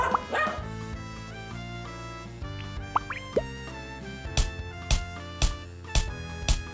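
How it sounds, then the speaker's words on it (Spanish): Cartoonish dog barks in the WizardChess video game, a run of short, evenly spaced yaps over tonal game music, clear and fairly prominent. "tengo dos perros"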